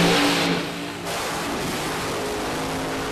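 Nitro-fuelled funny car engine revving hard at a drag strip, a loud, dense roar that dips briefly then holds a steady high-pitched blare as the car sits in pre-stage at Palmyra Dragway.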